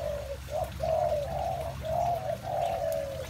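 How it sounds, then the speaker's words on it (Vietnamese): Dove cooing repeatedly in a rhythmic series of soft, mellow phrases, close and clear over a low steady background hum. "Chỉ có một con cu"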